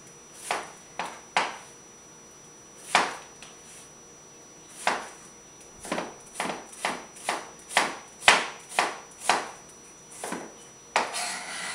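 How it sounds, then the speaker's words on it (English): A knife slices fresh turmeric root into thin rounds on a cutting board, with about fifteen crisp, close cuts falling in an uneven rhythm that quickens into a rapid run near the end. "So what I'm going to do is just slice it like this"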